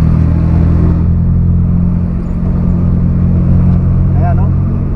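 Heavy road traffic of cars crawling through Pansol, heard as a loud, steady engine hum and low rumble from close by, with a brief higher whine toward the end.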